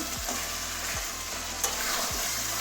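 Chicken sautéed in oil in a pan, a constant bright sizzle with three evenly spaced low scraping stirs and one sharp click, close and fairly quiet, with no talking.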